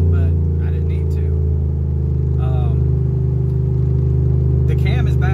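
A cammed Ram 1500 towing a load pulls steadily, its engine a deep, loud rumbling drone from inside the cab, while someone talks intermittently over it.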